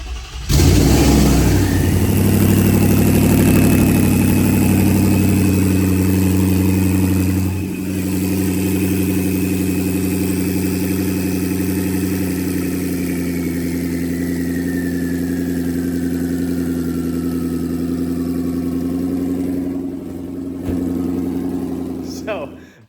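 Ford Coyote V8 with hood exit exhaust fires up and settles into a loud, high cold-start idle, a steady deep rumble with a slowly falling whine, running alone without voices.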